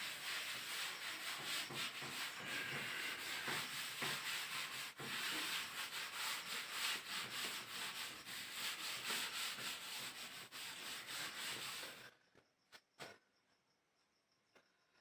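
Writing being rubbed off a board, a continuous close scratchy rubbing with rapid back-and-forth strokes for about twelve seconds, then stopping abruptly into near silence with a couple of faint taps.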